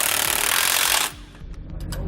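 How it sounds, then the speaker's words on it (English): An 18mm socket and 16mm wrench tighten bolts on a Roadmaster rear anti-sway bar setup for a 2016 Thor Windsport motorhome, a loud burst of ratcheting metal clatter that stops abruptly, followed by faint clinks. "We'll be using an 18mm socket and a 16mm wrench to tighten these down."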